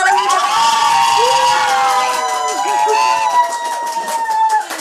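Loud, continuous crowd cheering with excited whoops and shouting voices from a live audience at a Bogor Daily podcast session, sustained throughout with no distinct clapping standing out.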